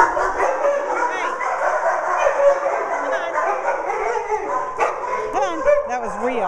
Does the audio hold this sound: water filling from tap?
no